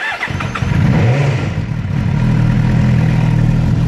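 A 2008 Suzuki GSX-R motorcycle with an idle fault starting with the throttle held open, the engine cranking and catching into a loud steady rumbling idle held close for a few seconds.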